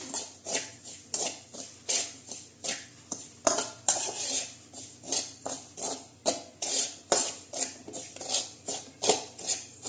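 Metal spoon stirring and scraping against a pan while sautéing, a steady rhythmic clatter of repeated strokes, close and moderately loud, with no talk.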